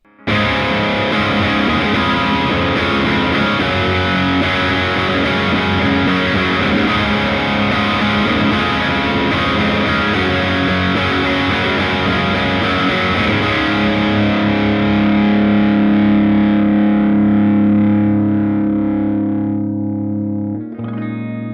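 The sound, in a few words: electric guitar amp lead channel with gain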